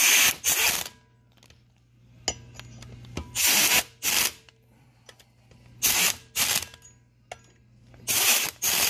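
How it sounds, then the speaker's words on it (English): Bursts of a 3/8 impact wrench hammering on bolts of a Polaris Ranger 800 engine bottom end, loud and close, several short runs separated by quieter gaps with a low steady hum underneath. "The trusty 3/8 impact."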